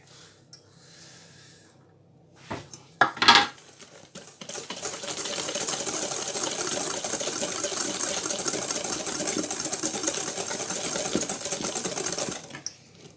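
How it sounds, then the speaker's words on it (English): Cake batter being mixed by an electric mixer, which starts after a few seconds and runs in a loud, steady mechanical whir for about nine seconds before cutting off, preceded by a few handling clunks. "I've got to add that in and mix it"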